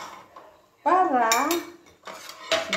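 A metal spoon stirs cabbage in a pot of chicken sopas, giving close scraping and clinking against the pot in two bursts. A voice sounds briefly over the stirring.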